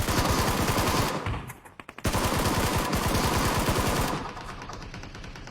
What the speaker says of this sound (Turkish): herifte pompalı varmış